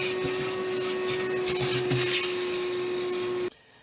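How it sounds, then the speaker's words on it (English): A vacuum cleaner runs steadily at close range, cleaning the battery area beneath the rear seat of a BMW E32 7 Series, with a constant whine and light rubbing scrapes before it shuts off abruptly near the end. "Before installing the battery, I like to vacuum the area first."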